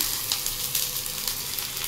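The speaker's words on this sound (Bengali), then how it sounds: "পেঁয়াজগুলো ভাজা চলছে" Onions fry in a pan with a bright, continuous crackling sizzle over a brief stretch, close and fairly loud, without any talking.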